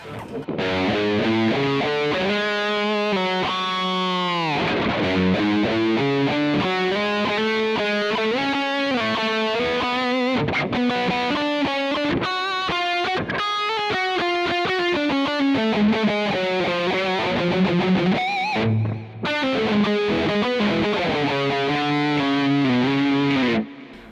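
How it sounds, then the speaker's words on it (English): Distorted electric guitar lead through a Bogner Ecstasy amp profile with a tube-screamer-style overdrive in front, playing sustained bends and fast melodic runs for over twenty seconds, loud and alone with a brief pause near the end. "I also used a bit of like tube screamer kind of distortion in front of the amp profile"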